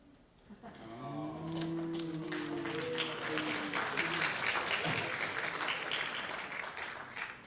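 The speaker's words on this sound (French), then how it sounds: "Là, vous applaudissez" An audience at a college talent show final applauds after a Rubik's cube magic trick, clapping swelling in and holding steady, with a few drawn-out vocal 'ooh' reactions from the crowd early on.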